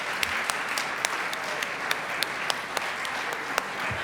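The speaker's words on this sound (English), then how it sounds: "give a warm round of applause to all candidates for their hard work and" A crowd applauds warmly at student guild officer election results, a dense, continuous patter of clapping with a few sharper individual claps standing out.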